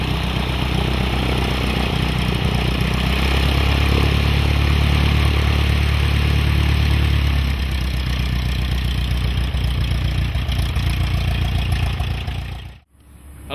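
A Piper Seneca twin-engine propeller airplane drones steadily and loudly. The low engine roar eases down after several seconds and gives way to a flatter hum before a brief cut near the end.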